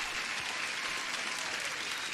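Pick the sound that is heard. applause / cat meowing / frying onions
applause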